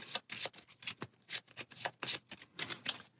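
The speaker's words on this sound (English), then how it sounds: "Go ahead and shuffle." A deck of playing cards shuffled at a tabletop board game session, a quick run of crisp riffling bursts in an uneven rhythm, close and fairly quiet.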